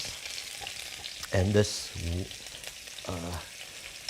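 Garlic and onions hit a very hot wok with only a little oil and fry in a constant crackling sizzle, while someone talks briefly over it in short bursts.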